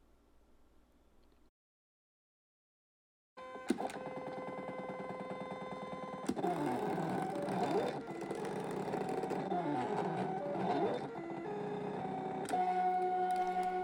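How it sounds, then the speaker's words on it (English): A Silhouette or Cricut cutting machine working through a fabric design, a steady motorized whir with shifting tones as the carriage moves, starting after a short silence and running continuously at close range. "Now you can simply send your design to the Silhouette machine or Cricut machine and let it do all the cutting for you."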